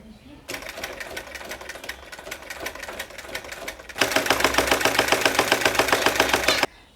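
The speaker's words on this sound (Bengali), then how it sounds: "আমি কিন্তু পেস্টিং পেপারের ঠিক পাশ দিয়ে সেলাইটা করে যাচ্ছি।" A sewing machine stitches along the edge of pasting paper on a garment collar, a rapid mechanical rattle in two bursts, the second louder and faster, with a soft voice underneath.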